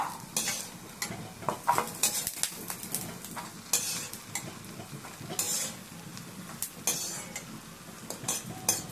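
Peanuts roast in a little oil in a pan, with a soft sizzle beneath repeated scraping and clinking strokes of a stirring utensil, close and moderately quiet, with no talk.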